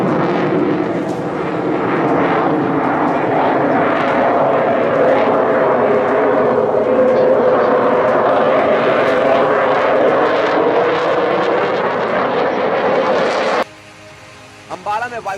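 Rafale fighter jets arriving at Ambala airbase produce a loud, sustained engine roar that swells and drifts in pitch as the aircraft pass, cutting off abruptly near the end, with a voice speaking over the sound.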